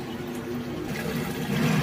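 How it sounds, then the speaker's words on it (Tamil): Water rushes steadily into a toilet cistern tank as the float rises to cut off the flow, a continuous low gurgling that swells slightly near the end. "தண்ணி வந்து ஃபில்லிங் கரெக்டாக இருக்கும்,"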